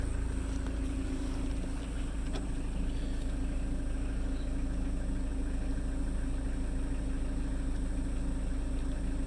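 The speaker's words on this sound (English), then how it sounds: "So now I'm going to start the engine" A Mitsubishi Delica engine idling just after starting, a steady low droning rumble with a constant hum, even and unbroken, with no talk.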